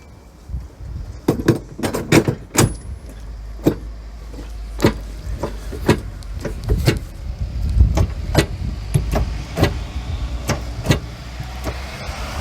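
Keys jangle and metal parts clink during the fitting of a Witter detachable towbar on a car, a series of sharp, close rattles and taps with brief pauses between them.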